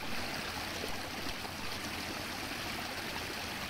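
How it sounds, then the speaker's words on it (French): A small forest stream flows in foggy woods, a close, steady rushing babble that stays even and continuous throughout with no voices. "ce beau petit ruisseau."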